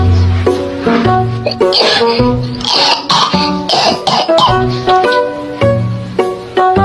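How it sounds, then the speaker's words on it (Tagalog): A child coughs harshly and clears their throat, close and loud, in several bursts over a tonal musical background. "Inuubo po ako"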